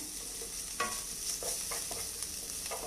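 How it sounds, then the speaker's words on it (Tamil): Ginger garlic paste sizzles steadily in a hot pan for a chicken potato cutlet, with a few scraping stirs of the spoon breaking through the hiss; no voices. "இந்த டைமில் நான் இஞ்சி பூண்டு பேஸ்ட் கொஞ்சம் சேர்த்துக்கிறேன்"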